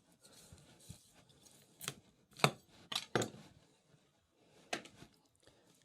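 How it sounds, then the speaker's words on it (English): A knife trims white fat from homemade prosciutto with scattered soft scrapes and several crisp, close cutting strokes against a board, in an otherwise quiet kitchen. "Just going to trim off some of this white fat just to get us down to the meat."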